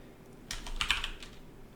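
A short burst of keystrokes on a computer keyboard, a quick cluster of close, clicky taps lasting about a second against a quiet room.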